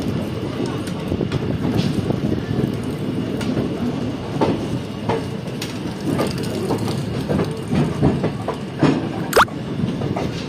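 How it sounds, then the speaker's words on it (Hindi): The Jaynagar–Samastipur passenger train runs steadily, with a continuous rolling rumble and rattling clicks from the wagons, a sharp metallic squeal near the end, and voices talking faintly in the background. "वो ट्रेन है"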